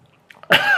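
A single sharp, loud cough bursts out after a short quiet lead-in with faint breathy sounds, from a man sampling Mexican IPA beers.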